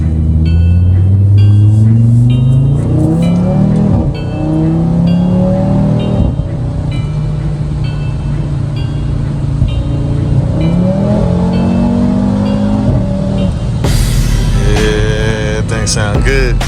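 A 2022 Audi RS3 fitted with a new aftermarket exhaust revs and accelerates close by, its engine note climbing and falling through repeated pulls with sharp crackles, loud and sustained throughout.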